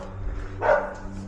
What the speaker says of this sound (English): Someone's dog's barking.